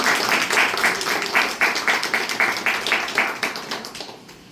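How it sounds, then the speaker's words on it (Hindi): A church program audience claps in a steady, rhythmic unison beat, loud, close hand claps repeating at regular intervals before trailing off near the end. "और तालियां बजाएंगे इस प्रोग्राम के"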